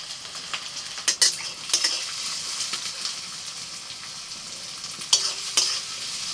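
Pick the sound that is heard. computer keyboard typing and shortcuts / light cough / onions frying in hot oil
onions frying in hot oil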